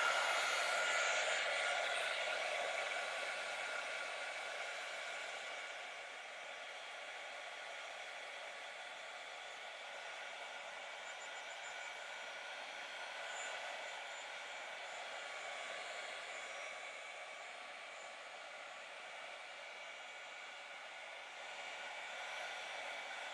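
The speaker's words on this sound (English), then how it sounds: "turn the heat gun on and dry this texture" A heat gun drying texture paste on a steampunk-style spellbook cover gives a steady, airy roar that swells and eases slightly as it moves, sustained throughout without speech.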